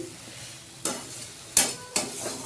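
Cabbage curry cooks in a pan with sautéed spices while someone stirs it. A soft sizzle runs underneath three sharp scraping strokes of the stirring utensil against the pan, heard close up.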